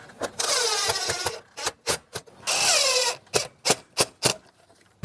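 A cordless power driver sets short screws to fasten the cover of a DIY ductless mini split unit, with two rising whirring runs followed by a string of brief, sharp bursts, all close and loud.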